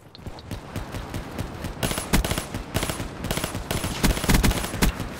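An M16 rifle fires repeated rapid bursts in Black Ops 3, loud close volleys of sharp cracks starting after a quieter opening, with short gaps between bursts.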